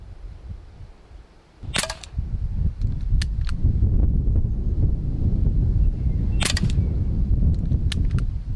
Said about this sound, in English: It's certainly windy.